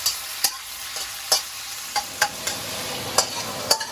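Marinated prawns, seasoned with salt and pepper, frying in a pan for Hong Kong fried rice, a steady sizzle broken by about eight sharp stirring scrapes and clinks at irregular intervals.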